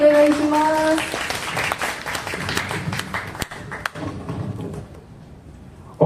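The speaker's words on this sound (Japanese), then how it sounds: "A round of applause for him, please." An audience at a Benin national day event in an African restaurant and club in Osaka gives a short round of applause, a moderate patter of clapping that thins out and trails off, with brief talk at the start.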